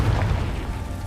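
A Confringo fire spell detonating in the Hogwarts Legacy video game, a single deep boom with a low rumbling tail, close and loud.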